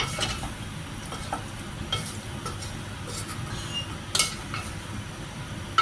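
A little water bubbles and simmers in a pan as it comes to a boil, with a steady hissing bubble and occasional clinks of a utensil stirring against the pan, up close and without talk.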